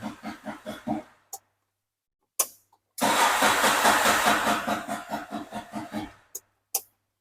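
A CNG auto-rickshaw engine, Bajaj or TVS, cranks in a run of short rhythmic bursts, pauses, then catches and runs with a loud pulsing chug before cutting out, close by with no talk.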